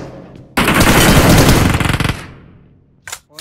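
Rapid automatic gunfire from the BGMI mobile shooter game rattles out in one loud, dense burst of about a second and a half, followed by a short, sharp sound near the end.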